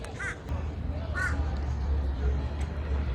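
A crow caws twice in quick rasping calls, close and clear, over a steady low outdoor rumble near a spot where bread was left out on the ground, with no talking.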